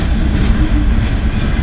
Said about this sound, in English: He's still going. Wow. He's still going. Still a really good train.